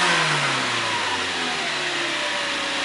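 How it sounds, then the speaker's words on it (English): A Toyota engine revs hard at high RPM during an unintended-acceleration demonstration, a loud, sustained, close roar with the pitch sagging slightly over a few seconds. "I'm going to duplicate engine speed RPM during the occurrence of unintended acceleration"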